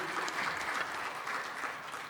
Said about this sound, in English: Give them another hand of applause,